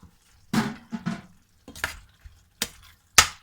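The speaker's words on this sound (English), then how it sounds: "And now I'm going to add in some cheese. Just a little bit of cheese to mix through." Spaghetti in tomato chutney sauce being stirred with cheese mixed through, giving a few separate wet, squelching scrapes and clinks of a utensil in the pan, close and moderately loud, with short pauses between strokes.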